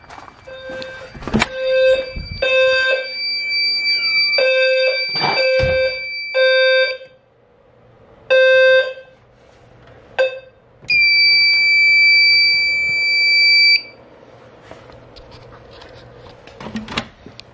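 Fire alarm system in a lookout tower sounding after a pull station was touched, loud repeated electronic tones in short bursts with a longer steady tone near the end, then quiet.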